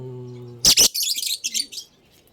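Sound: bird chirping in colony box

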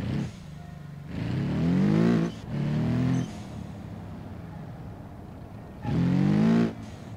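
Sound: car wheel spin in BeamNG.drive video game

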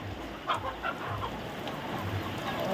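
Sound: chicken clucking, native country hens

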